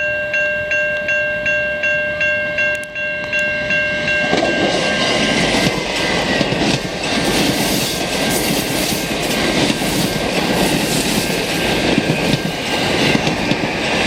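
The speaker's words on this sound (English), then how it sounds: "I got the train going by" A train rumbles past nearby on Alexander Street in Montreal's Pierrefonds borough on a summer evening, a brief horn tone at the start giving way to loud rattling, clattering wagons that continue steadily to the end.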